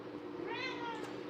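A cat meows once, a short rising-falling call heard fairly close in a bar during a rainy-day stream, over a steady background hiss.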